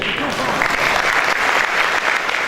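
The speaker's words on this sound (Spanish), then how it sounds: "Un aplauso por eso." A panel audience at an anniversary event claps together, a brief, even burst of many hands that is fairly loud and sustained across the moment, with a possible faint voice underneath.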